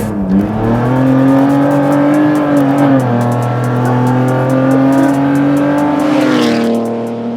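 A car engine roars at high speed, its steady harmonic drone shifting in pitch as it accelerates and eases, loud and close throughout.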